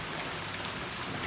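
Light drizzling rain falls steadily at a roadside stall near a waterfall trail in Pandeglang, Indonesia, a soft continuous hiss of fine drops with no voices over it.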